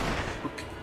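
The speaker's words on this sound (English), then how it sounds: "I'm gonna shoot him now." A single gunshot from an SML puppet movie, a short loud burst with a quick decay, heard alone.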